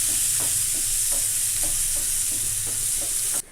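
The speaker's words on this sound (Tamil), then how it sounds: "இப்போ இது எல்லாத்தையும் சேர்த்து ஒரு 1 மினிட் நல்லா ஃப்ரை பண்ணி எடுத்துக்கலாம்" Chopped onion, curry leaves and green chili fry in a pan for a paniyaram snack, a constant bright sizzle with regular soft stirring scrapes about every half second, ending abruptly as the heat cuts.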